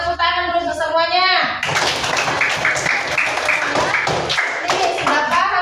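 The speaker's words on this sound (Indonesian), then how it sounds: "Tepuk tangan dulu untuk semuanya." Classroom of students clapping their hands together in a loud, busy burst that follows a voice, with dense overlapping claps and taps close by.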